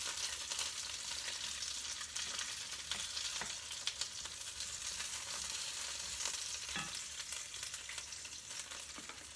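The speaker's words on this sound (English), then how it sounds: "the peppers are sizzling and popping away" Steady crackling sizzle of peppers frying in a hot skillet, with occasional sharper pops over a constant hiss, no voices.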